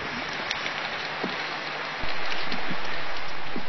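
Rain falls on a school notice board at a Punjab school, making a dense, steady patter. The patter grows noticeably louder partway through.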